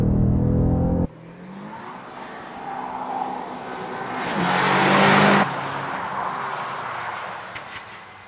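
BMW M5 CS car driving around Mondello, a short, technical race track, its engine a steady loud roar that swells and accelerates midway before easing back, heard alone without talk.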